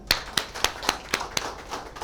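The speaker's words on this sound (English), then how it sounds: "Clap for Milan." Audience clapping at a trainer's workshop session, heard as six or seven sharp, evenly spaced claps over about two seconds, loud and close with no talking.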